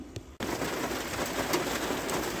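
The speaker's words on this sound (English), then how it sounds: "And now it's starting to rain." Steady, dense rain pours down after a short quiet moment, a loud continuous hiss of drops hitting surfaces nearby.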